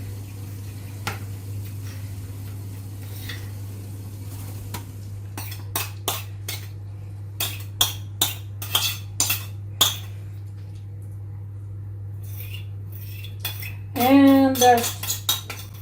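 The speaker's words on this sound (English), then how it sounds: "Let's mix this up." A spoon clinks and scrapes against a bowl while mixing fish croquette mixture, a string of sharp, close knocks in an irregular rhythm over a steady low hum, with a louder rattling burst near the end.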